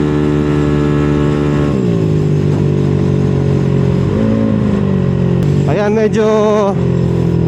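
Motorcycle engine being revved hard during break-in, a loud steady drone that dips, then climbs into sharp rising revs near the end, with a person speaking briefly over it.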